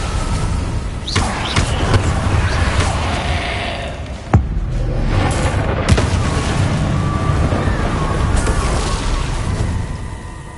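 Incendio fire spell cast in Hogwarts Legacy, a loud whooshing burst with sharp booming impacts and crackling flame, dense and sustained, joined by a voice calling out in the game.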